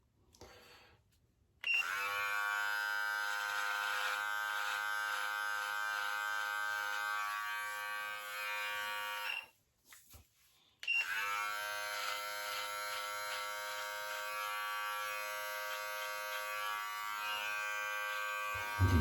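An electric trimmer fitted with a zero blade buzzes close up while trimming a goatee, running in two long steady stretches split by a short pause, with no voices.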